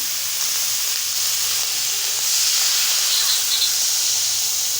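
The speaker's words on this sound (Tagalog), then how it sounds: "Tapos, ilagay ko yung gata, no?" Coconut milk poured onto sautéed pork in a hot pan gives a loud, continuous steaming hiss close up that swells slightly midway, with no talking.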